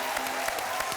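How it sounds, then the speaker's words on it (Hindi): A TV studio audience on a Salman Khan talk show breaks into applause, a brief burst of dense clapping from many hands, close and fairly loud, with faint voices underneath. "तालियां"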